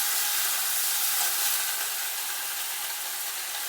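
Beans and potatoes sizzle in a pan as they fry for a Bengali tangra fish and bean curry, a steady, even hiss with no talking.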